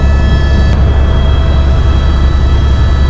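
Helicopter cabin in flight toward Adi Kailash at sunrise, a loud, steady low rotor and engine drone with faint high whine lines, constant throughout with no talking.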